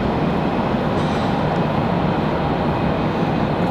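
A plane doing a touch and go at Raleigh-Durham airport produces a loud, steady, broadband engine roar that holds without a break.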